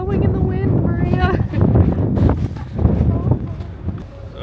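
Wind gusts buffet the microphone on a ferry crossing the Baltic Sea, a rough low rumble with scattered clatter, while people talk over it.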